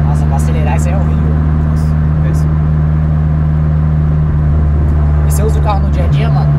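A Chevrolet Celta 1.8 fitted with a Montana engine idles loudly and steadily up close, with a strong low drone, while voices talk over it.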